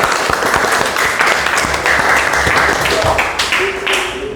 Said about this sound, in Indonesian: Berikan aplaus untuk kelompok sujud tilawah ini.